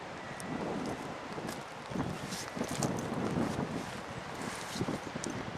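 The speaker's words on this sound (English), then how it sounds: "as you can probably hear, it's getting quite windy now." Wind gusts buffet the microphone in uneven rushes at Saltwick Bay, Yorkshire, a rough, rumbling outdoor roar that swells and eases without any voices.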